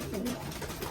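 Pigeon cockbirds cooing in a breeding loft, heard as a short, close, low burbling coo over a steady background hum.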